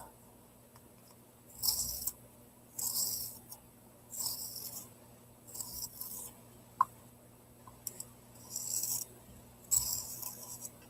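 Pencil sharpened during a coloring session: several rasping bursts of about a second each, recurring at a steady pace, fairly close and moderately loud over quiet room tone.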